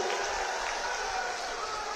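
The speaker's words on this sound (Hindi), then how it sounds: "जोर से ताली बजाइए जरा" Crowd applause at an Amit Shah election rally in Lakhisarai, Bihar, a steady broad wash of clapping holding at an even level for the full two seconds with no voice on top.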